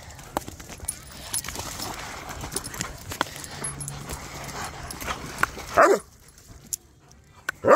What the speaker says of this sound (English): No, you don't need to bark either.